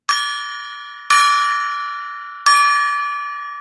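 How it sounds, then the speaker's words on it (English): A golden gong is struck three times, each hit a bright metallic ring that blooms and decays slowly before the next strike, loud and close with no voices. "Let me ring the golden gong"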